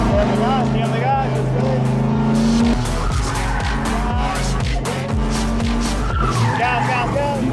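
A car is drifted using the handbrake, and its tires squeal and skid loudly and continuously over a straining engine, with people talking throughout.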